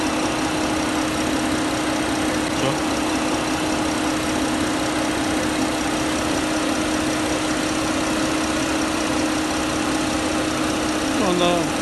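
A homemade air conditioner unit runs while refrigerant gas is added, its fan giving a steady, constant hum that stays fairly level throughout, with a faint rise in tone near the end.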